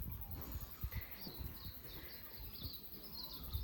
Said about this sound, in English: the sounds of the birds